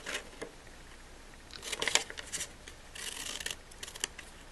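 Scissors snip and rasp through paper, cutting out small labels for bead boxes, with quiet irregular cuts and rustling that swell in short bursts.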